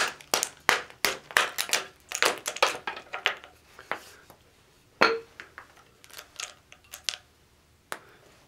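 Sharp, irregular chips and cracks as an Acratech ball head is chipped out of a block of ice, with clustered bursts of icy clinks, short pauses, then a few isolated hits toward the end.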